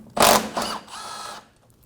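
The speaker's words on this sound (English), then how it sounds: "Using a 10mm socket, we're going to remove the bolt in the top corner of the bumper." Bolt in the top corner of a 2019-2025 Ram 2500 bumper being loosened with a 10mm socket, a short close whirring burst of a powered driver followed by two fainter spins.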